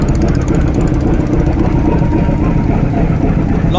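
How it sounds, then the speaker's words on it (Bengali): Passenger launch from Dhaka to Barisal pulling away from Sadarghat, its engine a loud, steady low drone under broad rumbling noise throughout. "ঢাকা থেকে বরিশালের উদ্দেশ্যে লঞ্চ হচ্ছে ছেড়েছে"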